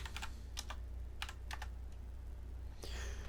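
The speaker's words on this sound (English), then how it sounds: "Let's type in Dangan." Short bursts of keystrokes on a computer keyboard spell out a word, with clusters of clicks separated by brief pauses, close and fairly quiet, followed by a softer closing tap.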